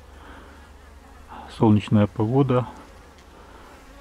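Honeybees leave their hives on a February cleansing flight in mild sunny weather, their faint buzzing humming in the background while someone speaks briefly near the microphone.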